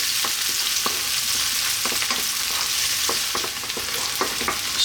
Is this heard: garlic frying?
yes